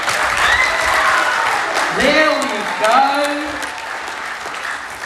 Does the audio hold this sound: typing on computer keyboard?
no